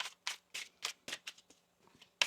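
Tarot cards riffle and slap in quick repeated bursts, a steady shuffling rhythm close up, ending with one sharp final snap.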